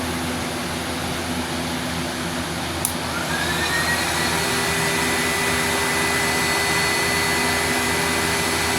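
A vacuum cleaner runs loudly and steadily, powered by an Aferiy P310 solar power station under heavy load, its motor whine rising slightly as it reaches full speed and then holding at a constant roar.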